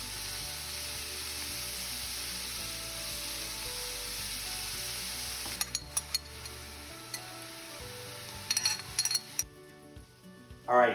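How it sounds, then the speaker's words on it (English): Vegetables sauteing in a pot for jambalaya give a steady, broad sizzle, joined partway through by scattered clinks and scrapes of utensils against the pot and a louder knock near the end, with background music underneath. "We'll get the vegetables sauteing in the pot"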